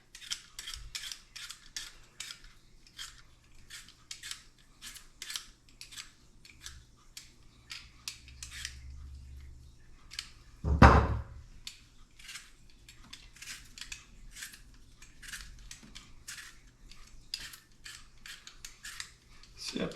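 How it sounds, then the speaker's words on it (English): A vegetable peeler strips a potato for egg potato salad in quick, crisp, rhythmic scraping strokes close by. One louder knock lands partway through. No one speaks. "The end of your peeler has a little scoop for scooping out eyes."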